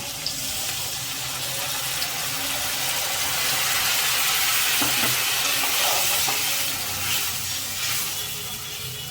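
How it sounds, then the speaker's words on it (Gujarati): Water pours steadily into a hot pan of sizzling masala, a running, splashing rush over a soft sizzle, continuous and close. "હવે તેમાં થોડુંક પાણી નાખી દેશું"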